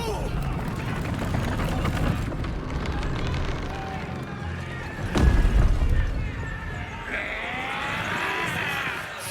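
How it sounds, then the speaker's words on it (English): A cannon fires in the fantasy video game Baldur's Gate 3, one deep booming blast landing midway through a noisy battle scene, with shouting voices and clashing action around it. "Cannon!"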